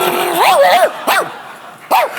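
A woman on a French television talk show imitates a dog with her voice, giving a drawn-out wavering whine-bark followed by two short yipping barks spaced apart, loud and close.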